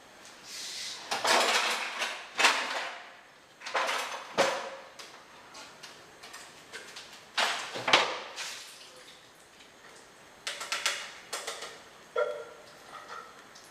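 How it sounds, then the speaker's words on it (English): Cooked pigeon peas and cassava being drained in a kitchen, with a string of loud clattering bursts of pot and lid handling alongside splashing and trickling liquid, coming close and spread through the whole stretch. "All right, so I'm going to drain this out."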